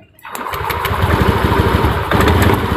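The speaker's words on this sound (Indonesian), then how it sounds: "Kita hidupkan motornya" A Honda Beat ESP motorcycle engine starts up after a brief silence and settles into a close, loud, rapidly pulsing idle that continues to the end.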